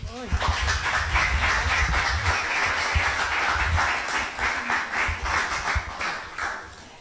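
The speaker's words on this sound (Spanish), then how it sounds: "Un fuerte aplauso para la doctora." An audience at a Spanish-language magazine presentation breaks into sustained applause, a dense wash of clapping that holds for several seconds and then thins out, with voices talking over it.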